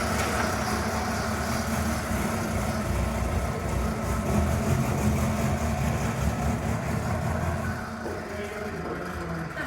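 A Sunbeam Alpine hard top with a 1725 engine idles steadily at an old car rally at a bus museum, a low continuous rumble that holds throughout without talk.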